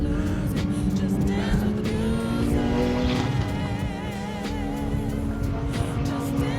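Race cars circle the Anglesey Circuit track day, a BAC Mono and Ariel Atom among them, their engines droning steadily and loudly at some distance, with shifting pitch as cars pass and nobody speaking.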